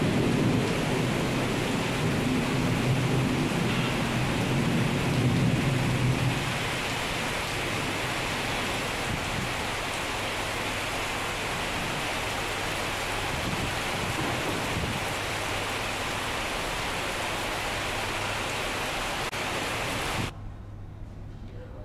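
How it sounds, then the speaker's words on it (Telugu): Heavy rain falls in Konaseema in a steady, dense hiss, somewhat louder for the first few seconds, then continuing evenly until it cuts off near the end. "అంబేద్కర్ కోనసీమ జిల్లాలో భారీ వర్షం కురుస్తున్నాయి."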